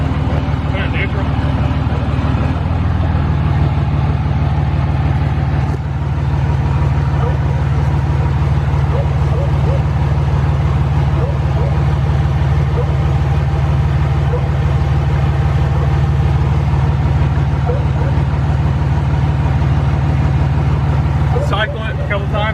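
A Cummins 5.9 diesel truck engine with a rebuilt 48RE transmission idles steadily in neutral, a loud continuous low rumble running the whole time, with people talking over it.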